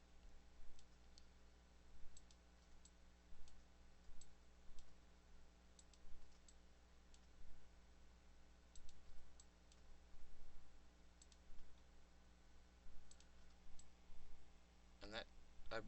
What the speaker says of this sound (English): Just holding control and clicking.